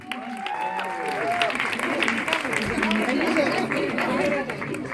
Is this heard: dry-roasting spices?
no